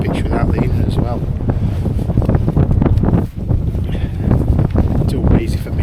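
Gusty wind buffets an exposed hillside campsite at High Stones in the Peak District, a loud continuous rumble and roar against the microphone with a voice mixed in throughout.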